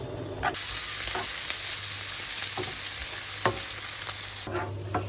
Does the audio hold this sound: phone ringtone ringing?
no